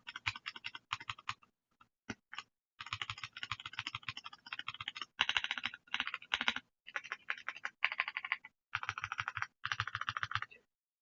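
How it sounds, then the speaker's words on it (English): Rapid bursts of typing on a ReDragon Eisa mechanical keyboard, close and crisp, with clustered keystroke runs separated by short pauses and no one talking. "So that's the typing test,"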